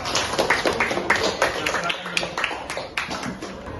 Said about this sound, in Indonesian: Tepuk tangan semuanya.